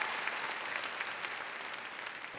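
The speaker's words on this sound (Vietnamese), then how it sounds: "cho tứ đại đồng đường một tràng pháo tay luôn" A studio audience at a Vietnamese family game show breaks into steady, dense applause, loud and close, with no voices over it.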